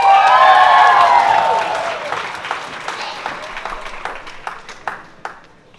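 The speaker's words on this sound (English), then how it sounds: "Give him a great round of applause" An audience breaks into loud applause with some cheering, which fades into scattered claps before dying out.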